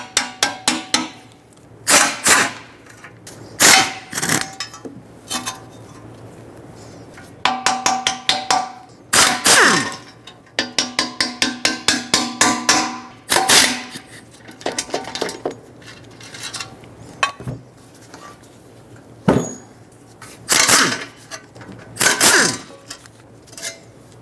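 On a 2012-2017 Toyota Camry, an exhaust heat shield is tapped into place with a series of sharp metallic clinks and knocks, some in quick bursts and others spaced apart, close and fairly loud.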